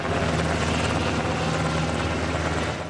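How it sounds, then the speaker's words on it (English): Firefighting helicopters flying over a wildfire near the Olympic National Forest, dumping water on the smoke; a loud, close, continuous rotor thrum and engine roar with a steady low beat, no talk. "This road that helicopters were flying over, dumping water right over the smoke."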